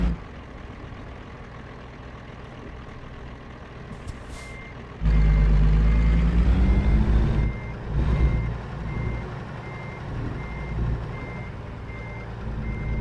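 In American Truck Simulator, a truck backs a trailer while repeated reversing beeps sound over a low engine rumble that grows louder as it revs and moves.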